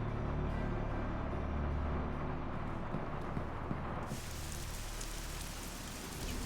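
Steady rainfall in the video game Midnight Suns, a constant hissing patter of drops over a low rumbling bed, even and unbroken throughout with a slight change in tone partway through, no talk.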